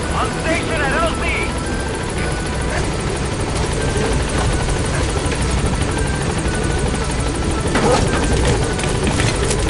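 The B-Quad support helicopter in Metal Gear Solid V: The Phantom Pain arrives at a landing zone with a loud, continuous rotor thrum and engine whine that hold steady throughout. A radio voice talks over the rotor noise.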